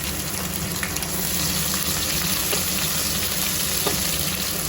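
Chopped onion and garlic fry in hot oil, giving a loud, continuous sizzle that stays even throughout with no voices.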